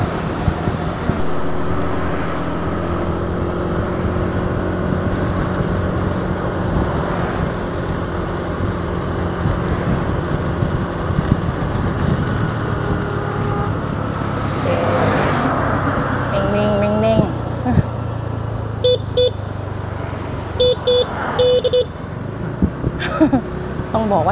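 Busy traffic at a city intersection in Vietnam, with motor engines droning and passing vehicles throughout, close and loud, and a cluster of short horn-like beeps near the end; people talk over it.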